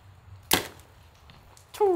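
A hunting bow's arrow strikes a target with a sharp, sudden thwack, followed after a pause by a second impact as arrows hit each other, each brief and fairly close.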